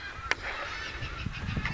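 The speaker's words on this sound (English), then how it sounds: "Can you hear the birds? Exotic birds. The neighbors. Parrots and stuff." Exotic birds such as parrots at a neighbouring property, giving loud honking, squawking calls in quick succession, fairly close and clear with no one talking.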